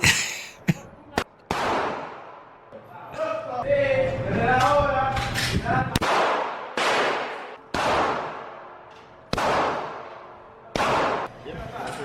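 Gunfire at a shooting range, heard as several sharp, loud reports spaced a second or two apart, each followed by a brief decay, with people talking between and around the shots.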